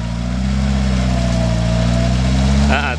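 A UAZ off-road vehicle engine drones loudly and close while stuck in clay, holding a steady low roar that rises slightly before a person speaks briefly at the end.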